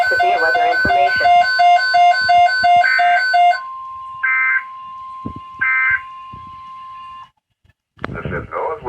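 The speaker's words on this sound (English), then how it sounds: "This station will broadcast severe weather alarm tone" NOAA Weather Radio severe weather alarm tone: a long, steady single-pitched electronic tone, loud and sustained, preceded by a burst of data-like digital bursts and followed by a voice beginning to speak.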